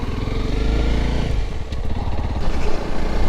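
Honda CRF300 Rally motorcycle pulling away with its single-cylinder engine running, a loud steady rumble heard close up throughout the clip with slight shifts in pitch.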